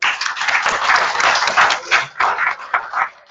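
A crowd in an auditorium gives a brief round of applause, a dense close patter of clapping that pulses and thins toward the end.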